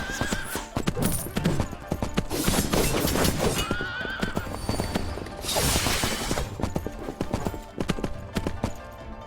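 Hooves clip-clop in a steady rapid gallop from a horse in the Three Kingdoms video game, with loud neighs and whinnies breaking through, continuous and close throughout without speech.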